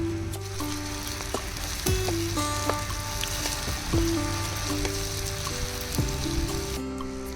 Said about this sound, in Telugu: పేస్ట్ కూడా పచ్చివాసన పోయే వరకు ఫ్రై చేసుకోవాలి.